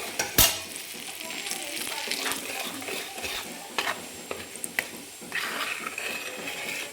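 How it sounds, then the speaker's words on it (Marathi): Onion, garlic, masala and red chili powder fry in oil in a pan for a mutton rassa curry, a steady close sizzle with occasional stirring scrapes and clinks, no voices. "कांदा लसूण मसाला आणि एक चमचा लाल तिखट आहे हे आपण आता तेलामध्ये आणि छान हे तळून घ्यायचं आहे"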